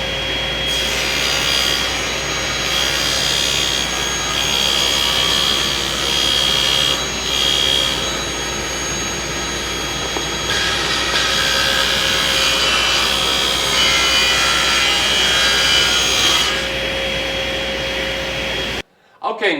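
A table saw rips plywood blanks in a workshop with a loud, continuous whining roar that swells slightly as each cut goes through, then cuts off abruptly at the end.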